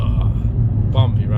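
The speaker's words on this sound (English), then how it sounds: "Bumpy roundabout." A Vauxhall Corsa VXR rolls over a bumpy roundabout at night, a deep, steady low rumble from inside the car, with a voice briefly talking over it.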